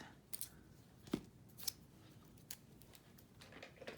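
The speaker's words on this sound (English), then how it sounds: "I'm going to cut this part, the sticker part off" Scissors snip off an overhanging piece of sticker during paper journaling, giving a few faint, sparse clicks and cuts against a quiet room background.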